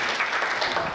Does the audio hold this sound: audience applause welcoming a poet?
yes